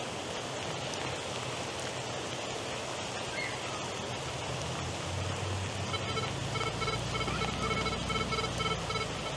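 Steady rain pours outdoors during a metal-detecting hunt with a Nokta Triple Score, a dense continuous hiss throughout, joined in the last few seconds by faint electronic detector tones.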